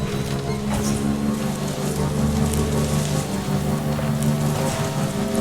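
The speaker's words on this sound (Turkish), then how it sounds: "Ama yağmur yağma ya." Steady rainfall in the Death Stranding video game, a dense, even hiss of rain over a low droning hum, continuous throughout with no talking.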